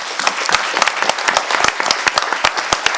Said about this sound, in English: So we'll start with applause for you, Sjors.